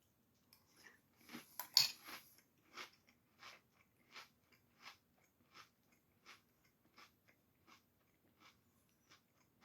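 Crunchy food product being chewed close up, a dense burst of loud crunches followed by a steady, evenly spaced series of fainter bites fading over several seconds.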